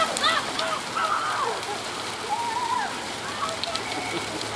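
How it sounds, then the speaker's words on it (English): Hail falling in a storm in Boise makes a dense, steady hiss of pelting ice throughout, with people talking and exclaiming over it. "Yeah, this is hail."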